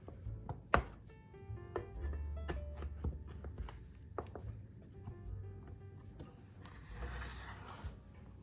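A big knife cuts through a pan of no-bake fudge, making a series of soft, irregular thuds and taps on the board and pan, with faint clatter and a rustle near the end.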